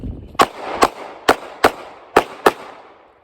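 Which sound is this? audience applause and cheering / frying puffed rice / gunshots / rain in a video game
gunshots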